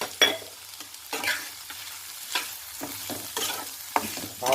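A ground mustard and coconut paste with green chillies hits a hot pan for a knol khol and pumpkin aava curry, giving a soft sizzle broken by several distinct scraping stirs.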